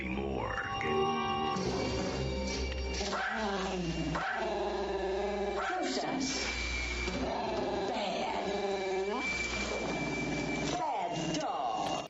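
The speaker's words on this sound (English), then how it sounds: "Bad dog." Dog growling in the 1991 horror film The Boneyard, drawn-out snarls and whimpering yips with film sound beneath, and a brief spoken word.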